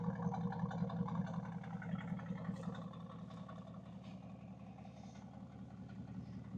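A 2016 Mercedes-AMG GTS V8 engine running with a deep, steady rumble, close and continuous, with a subtle pulsing throb throughout and no sharp revs.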